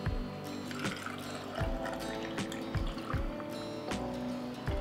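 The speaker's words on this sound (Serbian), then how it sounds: "Tegle ću sada napuniti sa vodom." Water pours steadily into glass jars of sugared fruit being filled to the brim, a continuous close liquid rush with a few sharp clinks of glass breaking through.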